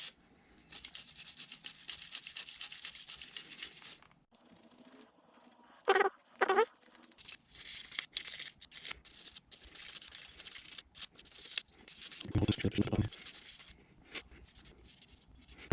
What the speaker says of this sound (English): Now we're going to use the brush. Work it down in there real nice. We're just cleaning all the residue out of there.